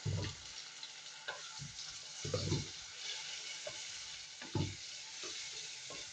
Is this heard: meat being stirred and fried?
yes